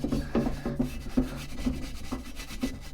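A brush scrubs grime off a Lambretta TS1 engine part with a steady rhythm of short, close, bristly rubbing strokes at a moderate pace.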